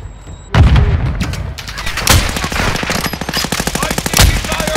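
Rapid automatic gunfire in Call of Duty DMZ, loud sustained bursts of machine-gun shots with sharp booming cracks at the onset and again near the end, no talk over it.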